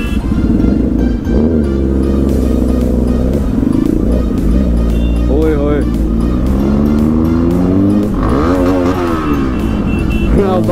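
A Kawasaki ZX10R sport motorcycle runs loud and close on the road, its engine revving up and down with rising and falling pitch sweeps while a rider talks over it.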